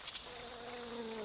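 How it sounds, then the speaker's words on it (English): Insect buzzing from a bee in a children's animal app, a steady continuous drone with a wavering tone that holds evenly throughout, moderately loud with no voices over it. "Bee."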